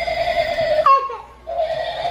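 A toy horse on a horse-drawn carriage toy gives a single loud, wavering electronic neigh that falls in pitch, set between stretches of a steady mechanical tone.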